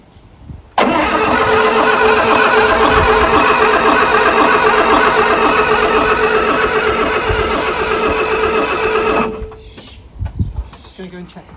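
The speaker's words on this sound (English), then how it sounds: "And then we went for a start, so we'll cut to the action." A Mk1 Ford Fiesta 1.1L engine, just restored, starts abruptly and runs loud and steady at a fast idle for about eight seconds before cutting out, followed by a few faint knocks.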